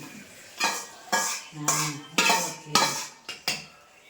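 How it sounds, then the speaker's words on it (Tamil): A spoon stirs and scrapes a pan of cashews and raisins frying in ghee for Pongal, giving a series of sharp metallic clinks and scrapes in an irregular rhythm, close and clear. "நன்றாக முந்திரி திராட்சையை வறுக்க வேண்டும்."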